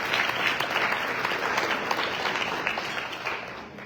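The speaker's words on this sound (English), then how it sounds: "Can we give them a round of applause?" Audience applause at an NAACP California/Hawaii youth convention banquet, a dense, steady clapping from a large crowd that fills the room and tapers slightly toward the end.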